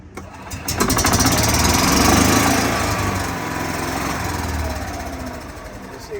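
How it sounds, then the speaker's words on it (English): A Club Car golf cart engine cranks and catches, then runs with a loud, rough, buzzing idle that swells and eases slightly, close by with no talking over it. "I'm gonna crank it up, but just listen to the engine."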